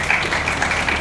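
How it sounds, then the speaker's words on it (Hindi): An audience at a public event applauds, a steady wash of clapping from many hands with no breaks. "पूरे भारतवर्ष के लिए हमें तालियां थमनी चाहिए"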